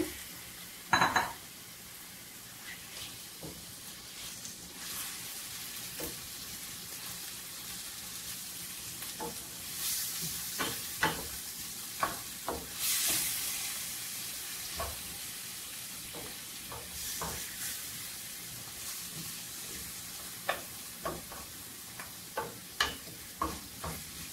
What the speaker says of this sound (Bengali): মশলা কষানো হয়ে গিয়েছে, মাংস দিয়ে দেব